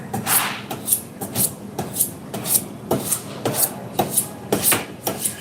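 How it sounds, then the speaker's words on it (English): A kitchen knife is drawn repeatedly across a sharpener, each rasping stroke arriving in an even rhythm of about ten close, crisp scrapes. "Just sharpening a knife off camera real quick"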